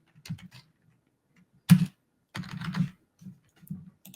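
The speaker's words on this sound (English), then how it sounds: "You would type in whatever you needed." Typing on a computer keyboard, close and clear, in short irregular bursts of key clicks separated by pauses, with no talk.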